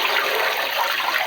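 Steady sloshing, rushing water as worn dreadlocks are shaken around in a container of water, continuous and close with no talk.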